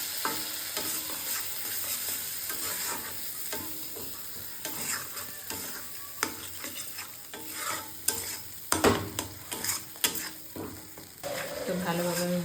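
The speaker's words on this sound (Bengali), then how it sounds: "ভালোভাবে মশলাটা কষিয়ে নেব।" Ginger-cumin paste is sautéed in a pan, a continuous sizzle with frequent spoon scrapes and knocks against the pan, with a busier burst of stirring near the end.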